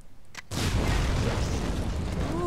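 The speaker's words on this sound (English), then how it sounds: "It's a big explosion." An explosive device detonates in the video game Far Cry 3, a loud boom that bursts in after a brief quiet pause and then rolls on as a sustained roar through the rest of the moment, with no talk.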